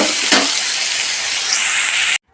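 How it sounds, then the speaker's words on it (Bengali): Potatoes, pointed gourd and onions fry together in a pan with a loud, steady, close sizzle and a brief stirring scrape, with no talking. "এই আলু পটল পেঁয়াজ সব একসাথে দিয়ে দিয়েছি দিয়ে ভালো করে ভেজে লাল লাল হয়ে যাবে"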